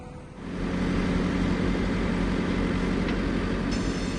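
Loud, continuous heavy digger engine rumble with broadband mechanical noise, steady and close throughout, during terrace repair work.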